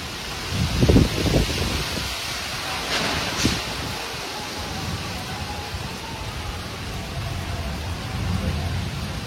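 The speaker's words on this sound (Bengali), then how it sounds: "গাছপালা মনে যেন ভেঙে যাবে এরকম হাওয়া হচ্ছে।" Strong gusting wind from a sudden storm, strong enough to shake trees, roars steadily, with heavy buffeting against the microphone and a broad rushing noise throughout.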